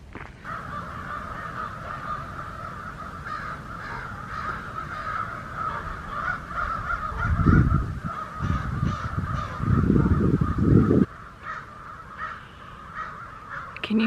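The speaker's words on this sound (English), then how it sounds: "There's like hundreds and hundreds of these birds." A huge flock of hundreds of crows caws continuously at a distance, harsh calls overlapping steadily, with louder bursts of low rumbling wind or handling noise partway through; no one speaks.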